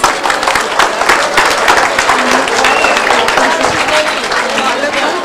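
Steady, dense applause from an audience at a tech fest in Delhi fills the whole stretch, loud and continuous with no clear gaps.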